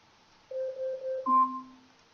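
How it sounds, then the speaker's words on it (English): An Amazon Echo smart speaker sounding its egg timer alarm: a clean electronic chime of two steady tones, one long low note then a brighter two-part note, clear and close in a quiet room. "Your egg timer is done."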